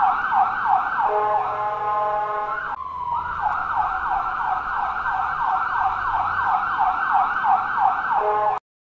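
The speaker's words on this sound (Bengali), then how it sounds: "তাকে তাড়াতাড়ি অ্যাম্বুলেন্সে করে হাসপাতালে নিয়ে যাওয়া হলো" An ambulance siren wails in a steady repeating up-and-down pattern, loud and close, with a brief break partway through before it resumes and then cuts off abruptly.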